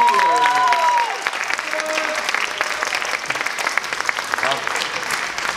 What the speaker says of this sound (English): Please, great applause for these 3 volunteers